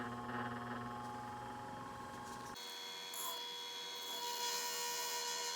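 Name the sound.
polishing machine running, polishing fire obsidian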